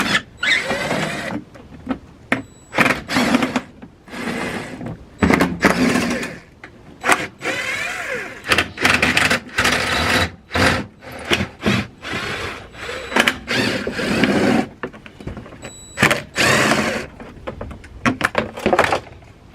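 Screws being removed from the front under tray of a BMW 1 Series, a string of short bursts of ratcheting, clicking and scraping hand-tool work, close and irregular, separated by brief quiet gaps.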